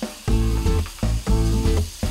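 Chicken breast hitting hot oil in a pan with garlic sizzles steadily, the hiss swelling and easing in repeated pulses as the pieces are moved, close and without talk.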